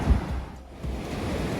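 Ocean waves washing onto a beach at high tide, a near, steady surf wash with wind buffeting the microphone and no speech.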